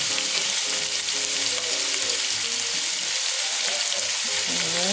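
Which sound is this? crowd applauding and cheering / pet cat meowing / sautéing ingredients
sautéing ingredients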